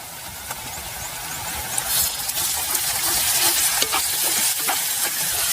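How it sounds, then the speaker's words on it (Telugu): Green chillies and ginger paste frying for a spicy Telangana-style mutton curry, a bright continuous sizzle close up with scattered spatula scrapes and taps as it is stirred. "అల్లం మసాలా పచ్చివాసన పోయే వరకు బాగా వేయించుకోవాలి"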